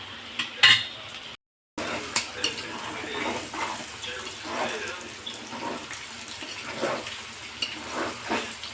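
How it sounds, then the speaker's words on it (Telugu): Sliced onions sizzle and fry in a thick, heavy pan while a chicken fry is cooked, a steady close hiss broken by clinks and scrapes of a utensil stirring against the metal. "ఇవ్వండి ఉల్లిపాయలు వేగిపోతున్నాయి కదా"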